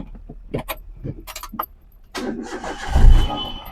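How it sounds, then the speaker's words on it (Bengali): A car's engine is started: light metallic jangles and clicks come first, then a sudden loud crank and rumble that swells near the end, close to the listener. "দেখুন স্টার্টও দিয়ে দিচ্ছি বন্ধুরা, একদম দেখুন ইঞ্জিনের সাউন্ড সিস্টেম দেখুন"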